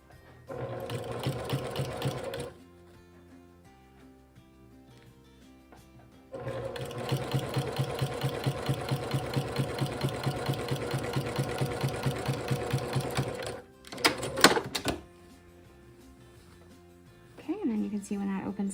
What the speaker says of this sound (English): Get that needle down in the fabric, holding it in place